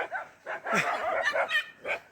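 A dog barks and yips in a quick series of close, loud bursts, several in a row with short gaps between them.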